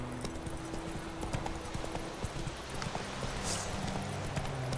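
Horse hooves clip-clopping at a steady, moderate pace in The Witcher 3, a continuous rhythmic trot heard fairly close under a busy game background.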